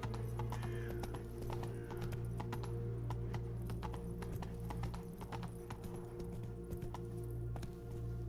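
Roach the horse's hooves clip-clop in a steady running rhythm in The Witcher 3, with a constant droning game soundscape underneath and no talking.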